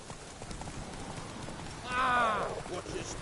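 Roach, a horse in The Witcher 3 video game, clip-clops along at a steady trot, with a short burst of louder vocal or whinny-like sound in the middle over continuous game ambience.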